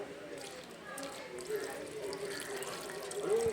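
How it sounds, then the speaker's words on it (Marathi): Liquid humic acid is poured onto a potted curry leaf plant, a soft splashing and trickling into the soil that plays faintly beneath a person speaking. "ह्युमिक ॲसिड आपण ओतून घेत आहे"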